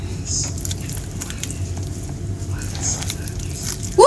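Crunchy fried pork belly is bitten and chewed close by, with soft crackling and squishy bites running steadily under faint background noise, then a brief voice cuts in at the very end.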